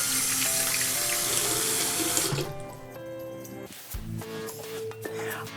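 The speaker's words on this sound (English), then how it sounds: "make sure you use soap and warm water and scrub your hands really, really good" Warm water runs loudly from a faucet into a kitchen sink while hands are washed with soap. The strong, steady rush later thins and shifts as the flow changes.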